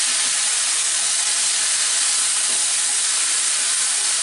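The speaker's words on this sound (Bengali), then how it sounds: "এই পেঁয়াজগুলো দিয়ে আমি এটাকে একটু ভেজে নিব।" Onions fry in a pan on a stovetop, cooked down toward browned, caramelised softness for tandoori chicken, making a loud, continuous hissing sizzle with no speech.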